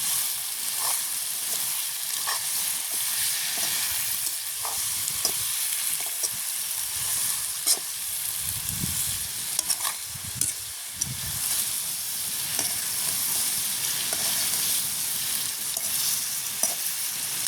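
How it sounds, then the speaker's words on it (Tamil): Drumsticks and carrot frying in a pan in a village kitchen sizzle and hiss steadily, while sharp stirring scrapes and clinks recur, with a few louder rustling bursts near the middle. "முருங்காயம் சேர்த்துக்கொள்வோம் கிண்டி விடுவோம் கேரட்"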